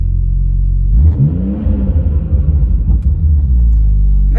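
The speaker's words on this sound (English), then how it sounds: "Just wanted to kind of let you guys hear the VRSF exhaust system on the 340i." BMW 340i fitted with a VRSF aftermarket exhaust, idling with a deep low rumble before a loud, close rev rises and falls, then settles into a throaty, burbling idle.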